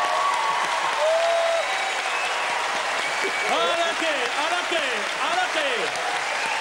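Loud audience applause at a Spanish comedy show featuring La Trinca, a dense sustained wash of clapping throughout while a voice speaks over it.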